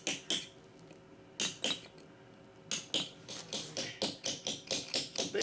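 A hammer strikes a chisel against stone, marking a line while rockfacing and shaping the stone. Sharp, close metallic taps come in small irregular bursts with short pauses between them.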